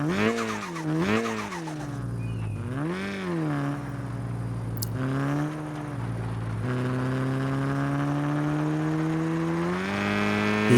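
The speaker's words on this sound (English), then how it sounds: "let's take a listen to what it sounds like and if it also has VTEC included" Turbocharged car engine with VTEC in the Car Parking Multiplayer game revs repeatedly, rising and falling in pitch, then holds a long steady climb, loud and close with no talk.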